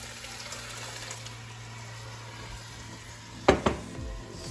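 Tomatoes are added to a hot pan and sizzle, a low steady frying hiss over a faint hum, then two sharp loud bursts as they hit the oil near the end, without talk.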